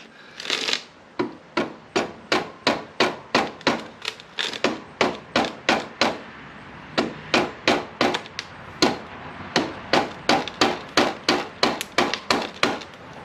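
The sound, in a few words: rubber mallet tapping Softail front wheel into place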